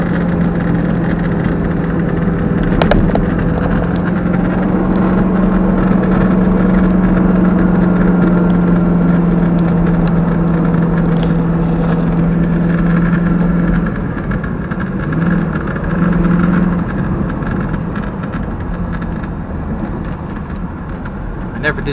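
An Avanti car drives under its own power, with a loud, steady engine drone running throughout, a sustained low hum and some rattling, with voices talking faintly in places.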